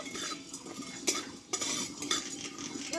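A spoon scrapes and clinks against a wok while cumin seeds are stirred and lightly roasted. Several sharp metallic strokes sit over a faint sizzle, close and moderately loud, with no talking.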